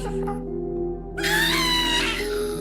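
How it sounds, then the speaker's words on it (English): Ghasts from the Minecraft Nether let out shrill, wailing cries, with a quieter mewling call at the start and then a louder, sustained screeching wail over a low droning hum. "It also tragically explains the agonizing cries and screams of the Ghasts."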